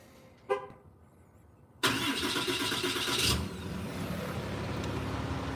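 A Ram pickup truck's engine cranks with a short chirp, then catches and roars to life with a loud burst before settling into a steady idle, heard close with no talking.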